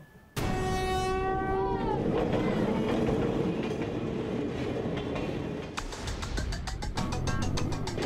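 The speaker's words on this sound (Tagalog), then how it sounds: "Sa itsura pa lamang nito ay hindi mo akalaing nakakabiyahe pa ang tren na ito." An old Philippine National Railways train blasts its horn loudly, then rumbles past with heavy engine roar and rhythmic clattering of wheels over rail joints, close by and without speech.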